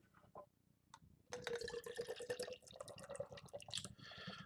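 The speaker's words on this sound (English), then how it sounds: "let's go ahead and give this thing a crack, a pour" Beer, a Pontoon Brewing Sol Crusher, poured from a can into a glass, with a quiet click and tap first, then a steady gurgling, splashing stream close up that fizzes and trickles toward the end.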